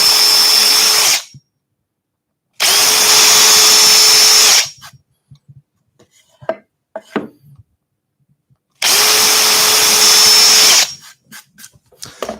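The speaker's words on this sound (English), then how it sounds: "quick whiz around" A power drill whirs loudly into wood in a workshop while making craft fair signs, running in three separate bursts of about two seconds each, with brief clatter and handling noise in the gaps between them.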